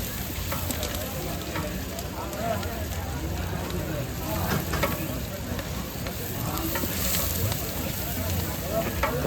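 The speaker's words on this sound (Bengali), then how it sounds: "এখন এই তেলের মধ্যে দিয়ে দিবেন দিয়েছেন এখন এগুলো লাড়াচাড়া দিবেন" Chopped onion and chilli frying in hot oil for sinni at a mazar fair in Jamalpur, a loud continuous sizzle with stirring scrapes while people talk throughout.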